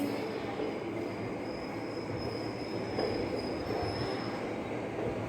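A train rumbles steadily along the rails with a constant roar and a faint high squeal, loud and continuous throughout.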